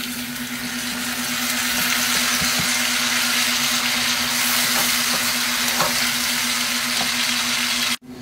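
Chopped tomato, onion and chile frying together with browned pork ribs in a pan, a loud steady sizzle with occasional stirring scrapes beneath a constant low hum.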